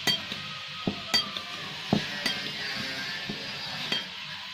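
Coarsely ground dry coriander is being mixed in a bowl for lasooray (gunda) pickle, with soft scraping stirs and a few sharp spoon clinks at uneven intervals. The mixing is close and fairly quiet, with no talking.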